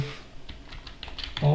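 Quick keystrokes on a computer keyboard entering a terminal command on Fedora, a short burst of soft clicks mixed with faint background talk.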